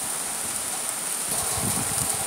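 Hail pelts down in stormy weather as a steady, dense hiss of ice striking surfaces, with scattered heavier impacts growing stronger toward the end.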